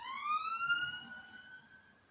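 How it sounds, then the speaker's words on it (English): An ambulance siren wails, sweeping upward and holding a steady tone, heard at moderate distance over a low background rumble. "God bless the ambulance."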